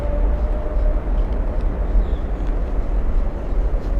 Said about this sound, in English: The ground shakes every time one of these lands in front of me, especially on takeoff. The roar is incredible.